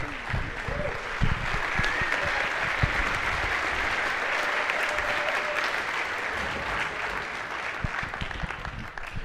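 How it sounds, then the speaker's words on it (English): Audience clapping at a high school spring band concert after a flute solo, a steady, full round of applause lasting several seconds with faint voices underneath. "Round of applause."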